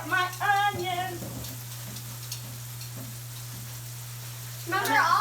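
Onions sizzle in a frying pan with a soft, steady crackle under a constant low hum, while a voice speaks briefly at the start and again at the end.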